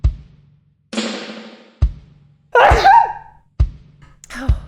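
Someone sneezes several times in a row in a room, each sharp burst followed by a short tail, with quiet gaps between them and no talk.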